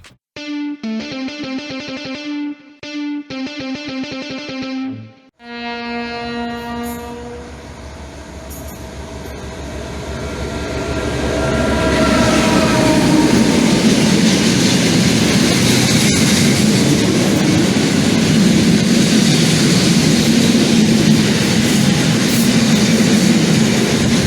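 An M62 diesel locomotive's engine hums steadily at first with a few breaks, then revs up into a loud, rough, sustained roar that fills the rest of the clip.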